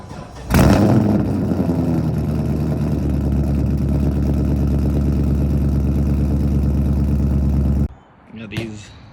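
A Nissan 240 engine cranks and catches, then settles into a loud steady idle with a low throbbing pulse before cutting off abruptly, followed by a short burst of voice.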